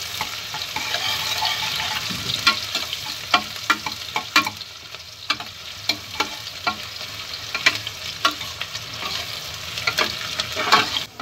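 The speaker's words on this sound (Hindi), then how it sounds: "प्याज को हम हल्की गुलाबी कर लेंगे।" Onions frying in a pan until light pink, with a constant moderate sizzle and a run of scraping, tapping stirs of a spoon at irregular intervals, close up and without speech.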